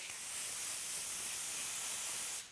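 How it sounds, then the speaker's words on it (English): 206 vinyl adhesive sprays onto a fiberglass car audio hatch enclosure in a steady, close, bright hiss that holds evenly for a couple of seconds and then cuts off. "Now we're ready to spray the vinyl."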